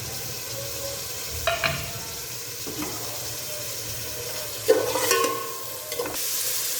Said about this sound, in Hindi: अब ऑयल हमारा तकरीबन गर्म हो चुका है, मैं इसके अंदर डाल दूंगी प्याज।